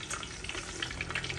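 Fish and crab fry in a pan of hot oil, giving a soft, continuous sizzle with scattered crackles and pops throughout, fairly quiet and with no talking.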